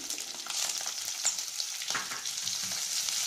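Small shallots frying in hot oil with cinnamon and fennel for a fish curry, a steady close crackling sizzle with stirring scrapes and no talking.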